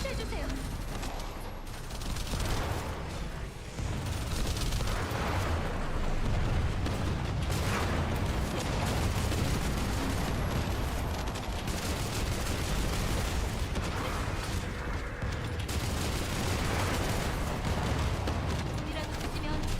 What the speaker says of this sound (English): turn the sound effects up of all these explosions and guns